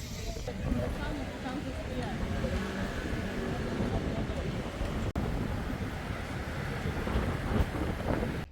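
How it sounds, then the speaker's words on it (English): Strong gusting wind at a paragliding site in Algodonales, Spain, buffets the microphone with a steady low roar, with a voice faintly present underneath. "It is super windy"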